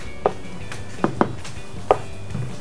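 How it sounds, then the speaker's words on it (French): A rolling pin works gum paste dusted with cornstarch and icing sugar on a worktop, giving four or five sharp, separate knocks and taps at uneven intervals against quiet background noise. "dès que j'ai donné quelques coups de rouleau pour être sûr que ça ne colle pas dessus"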